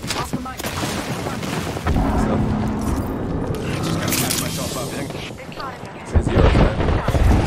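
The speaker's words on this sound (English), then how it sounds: "I'm throwing my airstrike." Airstrike explosions in a video game land as heavy, rumbling booms and crackling blasts, with a big burst near the end, while people talk over the noise.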